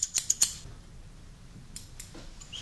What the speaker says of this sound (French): je vous coupe une petite mèche de cheveux